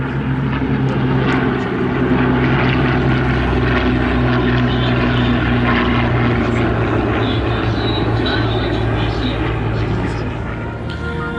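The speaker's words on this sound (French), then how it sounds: "voilà, reviennent devant nous les deux avions." Two vintage propeller planes, a Dakota and a Spitfire, pass together at an airshow in Melun-Villaroche, their engines a loud, sustained droning roar with a steady low hum throughout, with an announcer's voice underneath.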